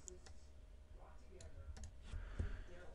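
A computer mouse right-click in a quiet room during a Kali Linux software install: a few small, faint clicks spaced across a few seconds, with faint voice-like sound in the background.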